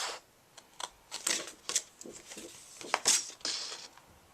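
Rapid, crisp snipping and crunching of paper in irregular bursts, close by, with no talking, as flaps are cut from a paper treat box.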